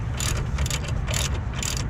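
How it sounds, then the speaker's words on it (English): A torque gun works a control arm bolt on a 2010 Ford F-150 front suspension, a close, continuous buzzing ratchet with repeated pulsing bursts of clicking, no voices. "we're gonna get our torque gun out"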